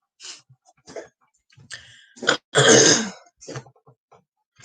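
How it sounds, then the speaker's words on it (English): A dog with asthma gives a series of harsh, dry coughs and hacking bursts at close range, irregular and separated by short silences. "my dog is coughing in the background"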